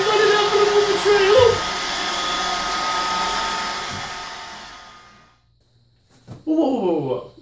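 A Roomba robot vacuum cleaner whirs with a steady, fairly loud broadband hum for about five seconds, then winds down to near silence before a voice briefly speaks.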